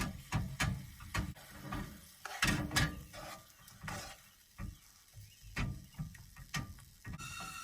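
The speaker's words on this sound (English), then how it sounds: "Scramble these in the pan here." At a camp stove in Mendocino National Forest, food is scrambled in a pan with a spatula. Irregular scraping strokes and clacks rise over a soft sizzle, close-up and fairly quiet.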